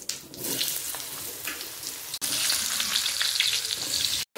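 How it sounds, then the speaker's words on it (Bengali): Potatoes frying in oil with a dried chilli and cumin tempering make a loud, dense, crackling sizzle that breaks off briefly at the midpoint and then resumes even stronger, with no voices. "ফোড়ন করে নেবো, শুকনো লঙ্কা, জিরে, আলু দিয়ে দেবো।"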